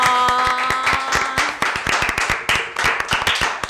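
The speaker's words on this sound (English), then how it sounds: "Can we give him a round of applause," A small group claps in a podcast studio, loose uneven hand claps close to the mic that overlap a lingering musical tone at first, then continue as scattered claps.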